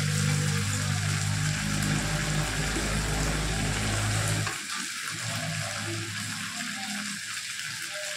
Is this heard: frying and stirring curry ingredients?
yes